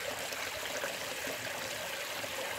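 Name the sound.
water running through a gold sluice box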